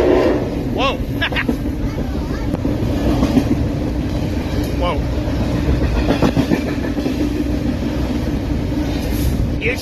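Amtrak Southwest Chief passenger train departing, a steady loud rumble of rolling cars with clickety-clack and squeal accents throughout, heard up close as people speak over it.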